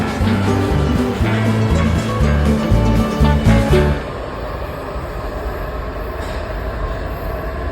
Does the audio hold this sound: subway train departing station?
yes